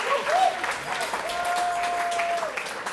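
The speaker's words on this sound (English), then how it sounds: "Let's give her a round of applause." Guests at a round of toasts break into steady applause, with a sustained high tone like a whistle or a voice carrying over the clapping for much of its length.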